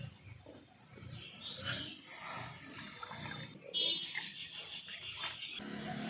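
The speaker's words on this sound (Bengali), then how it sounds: "কড়ার মধ্যে দিয়ে দিলাম 3 বাটি জল।" Water is poured from bowls into a wok set on a lit stove, an uneven splashing and gurgling close by with faint background noise and no talk.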